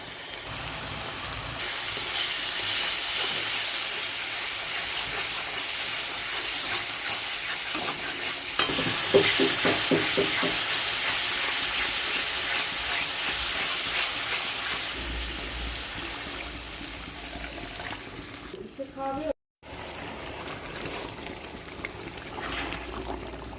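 Ginger-garlic paste and chili powder frying in a pan, with a steady loud sizzle, spoon stirring and scraping strokes midway, and a short break near the end.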